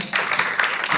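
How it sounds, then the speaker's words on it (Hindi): Audience clapping at a storytelling and ghazal performance show, a brief dense burst of many hands starting abruptly and holding steady, fairly loud and close. "बहुत सही तालियां बजा दो"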